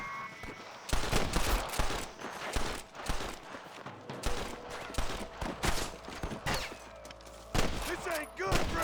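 Sniper gunfire in the Western video game Red Dead Redemption: a dense run of sharp rifle shots and rapid bursts cracking one after another, mixed with in-game shouting and chaotic battle noise.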